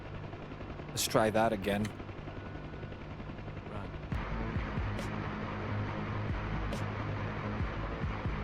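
A twin-blade helicopter in a video game gives a steady rotor and engine drone beneath bursts of gunfire. Someone talks briefly near the start, with sharp isolated cracks later.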